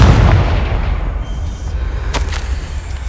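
A Confringo blasting spell going off in Hogwarts Legacy, a loud booming explosion with a heavy low rumble that rolls on for a few seconds, with a brief crackling burst partway through.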